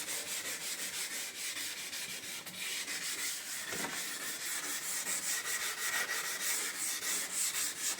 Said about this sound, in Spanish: Vamos a lijar de esta forma para después lijar lo contrario